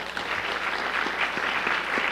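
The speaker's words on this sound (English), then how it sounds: "Let's give him another round of applause." Audience applause at a 2003 high school fine arts award program, a steady wash of many hands clapping, moderately loud with no voices on top.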